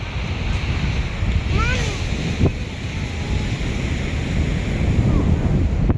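Ocean surf rolling onto a Maryland beach in summer, a steady wash of waves with wind buffeting the microphone, while a voice and distant chatter come through over it.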